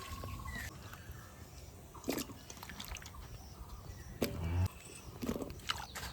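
A little water poured into a hot pan of ash gourd gives quiet trickles and drips, with a brief, sharper splash and hiss partway through and soft clatter around it.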